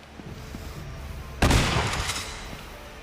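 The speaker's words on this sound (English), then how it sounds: "And now he's got a shotgun." A shotgun fires in the game Uncharted Golden Abyss as one sudden loud blast that rings and decays over a second, following quieter game ambience.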